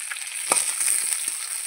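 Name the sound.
pangas fish frying and being stirred in a pan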